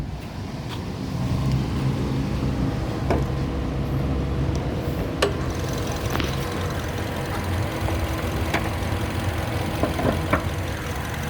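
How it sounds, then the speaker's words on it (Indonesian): A 2012 Mazda 2 hatchback with automatic transmission idles smoothly, its engine giving a steady, even hum with faint ticking, heard close up without talk. "Nah, untuk bagian mesinnya seperti ini teman-teman. Suaranya juga halus sekali."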